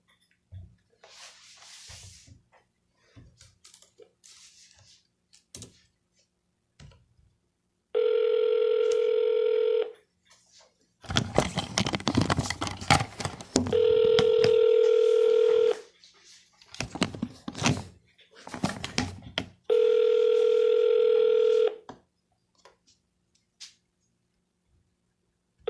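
A Vulcan7 phone dialer places a call, with three long steady dial tones separated by bursts of clicking and line noise, plus scattered faint handling sounds.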